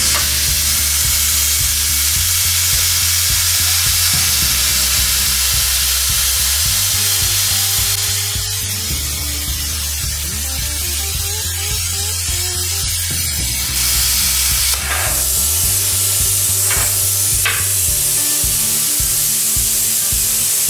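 A cheap Amazon plasma cutter slices through a piece of sheet metal, giving a loud, steady hissing and crackling roar that runs for about twenty seconds, with a low compressor hum pulsing underneath and brief bursts of air near the end.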